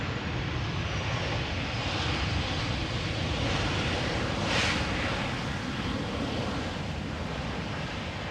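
At Amsterdam Schiphol, the aircraft PH-Aeron roars past the tower in a continuous broad engine rush that swells slightly toward the middle and then eases.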